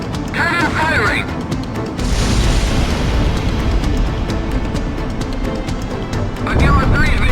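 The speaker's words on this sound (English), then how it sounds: "Cannon firing!" A cannon fires and explodes in the air-combat video game Ace Combat X. The blast is a loud, sustained broadband roar under a steady bed of engine rumble, with voices heard around it.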